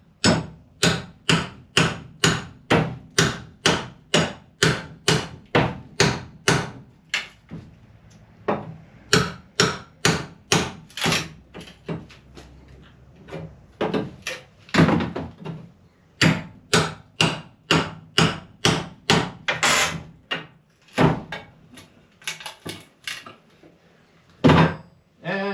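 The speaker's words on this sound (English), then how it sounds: "wrecking bar, hammer." Repeated sharp hammer strikes on a wrecking bar prying apart old nailed wood during house repairs, steady bursts of loud metallic knocks with brief pauses and occasional creaks.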